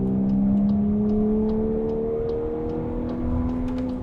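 A Volkswagen Atlas SUV with a 2-liter gasoline turbo engine accelerates, its smooth engine drone climbing steadily in pitch from inside the cabin, with a faint whir beneath.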